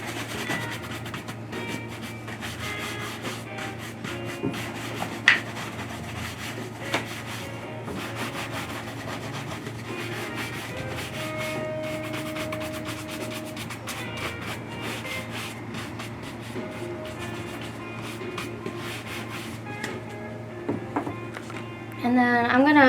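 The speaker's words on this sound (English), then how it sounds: "then I'm going to do a quick brush" Cowboy boots get a quick brushing during a shoe shine in Seattle: brisk, continuous bristle rubbing strokes up close, with a voice at times and a few louder knocks near the end.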